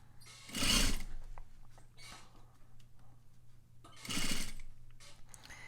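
A sewing machine stitches a curved seam with a facing, running in two loud close bursts with quieter whirring and pauses between them.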